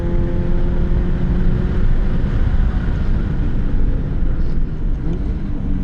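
Steady car engine drone inside a moving vehicle during a heel-toe downshift from fourth to second gear, loud and continuous with broadband road noise; revs shift only subtly, with a brief change near the end.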